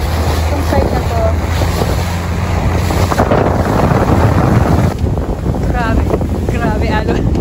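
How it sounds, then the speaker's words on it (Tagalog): Rough sea waves slap and surge against a small boat on a ride off Montenegro, with heavy wind buffeting the microphone and engine rumble underneath, loud and continuous; a voice is briefly heard. "Ay, sobrang alon."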